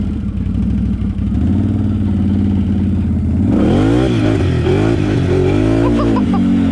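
A Can-Am Outlander 850 XMR ATV on 32-inch Aztex tires idles with a deep throb, then revs hard and accelerates, its engine note rising and wavering loudly up close.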